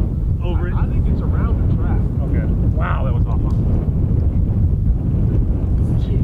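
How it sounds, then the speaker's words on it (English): Gusts of strong wind, around 25 miles per hour, roar across a golf course in a continuous loud rumble of microphone buffeting, with faint voices underneath. "Wind's gonna be a factor today, folks."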